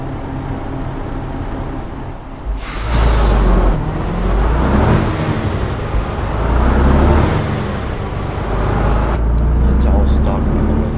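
A Freightliner truck idles in American Truck Simulator while hauling an oversize load, a loud, steady low engine rumble with a rising and falling whistle riding over it and a burst of air hiss near the start.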